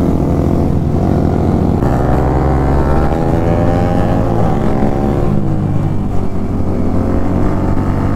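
Yamaha R15 and Pulsar RS200 motorcycles with aftermarket exhausts riding in a street race, a loud, close, continuous engine drone whose revs rise and fall through gear changes, with no talking.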